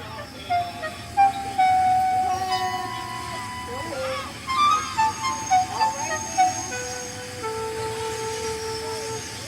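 Henry, an animated steam engine, hauls a freight train with steady chugging and hissing, and whistle-like tones rise over a continuous rumble.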